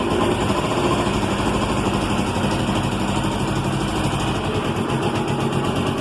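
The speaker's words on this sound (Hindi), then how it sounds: "इंजन का साउंड भी माशाल्लाह बहुत प्यारा है, कोई आवाज़ नहीं है दोस्तों इसके अंदर।" A Honda CG 125 motorcycle engine idles steadily and close by, a continuous low rumble with even vibration throughout, no voices.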